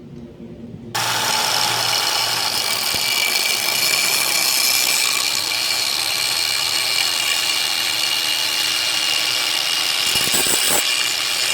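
An angle grinder grinds cast iron steadily and loudly for several seconds after a brief quieter start, cutting out a crack in a 1937 Willys flathead engine, with a harsh, continuous high-pitched whine.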